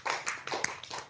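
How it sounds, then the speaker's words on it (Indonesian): A small gathering at an Indonesian religious talk claps briefly in a few soft scattered bursts, sounding faint and uneven, as if only a handful of people join in. "Tepuk tangan dong."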